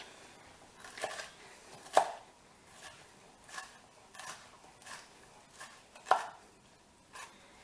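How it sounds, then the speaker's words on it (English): Bell peppers chopped with a knife on a cutting board, a run of separate, uneven thuds about once a second, close and clear with no talking. "Let me get my peppers chopped so you can see."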